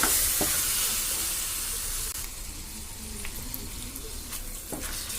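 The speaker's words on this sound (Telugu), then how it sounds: "ఇప్పుడు ఇందులో నత్తలు వేసుకుందాం వీటిని కూడా బాగా ఫ్రై చేస్తాను" Snails frying in a pan with ginger garlic paste, a steady broadband sizzle with a few soft stirring clicks, close and continuous with no talking.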